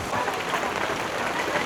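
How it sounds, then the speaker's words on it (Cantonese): Heavy rain driven by strong wind during a typhoon, a dense, steady hiss of downpour pattering on surfaces all around, with no breaks over the short span. "而家好大風大雨感覺都真係覺得打風咁啊"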